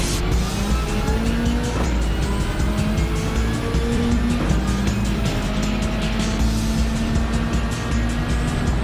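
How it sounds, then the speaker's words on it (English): A Lamborghini Aventador races in a video game with a loud, continuous engine roar and repeated tire squeals through corners, other cars audible around it, no voices over the sustained racing noise. "Around the outside of Milo in the Aventador, and once again, aerodynamic grip, paying dividends."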